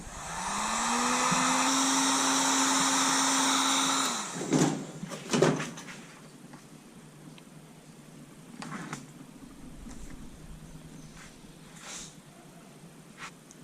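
A heat gun blows a loud, steady whir while warming PVC to shape a flange, cutting off after about four seconds, followed by a few knocks and quiet handling sounds.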